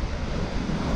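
Ocean waves surge continuously under strong, buffeting wind at a seaside fishing spot after a storm, with dense low rumbling wind noise on the microphone throughout.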